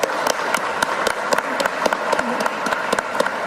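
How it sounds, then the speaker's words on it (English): Live audience at a news broadcast applauding for a guest, scattered distinct claps in a modest, fairly close round. "Let's have a round of applause for Beatrice."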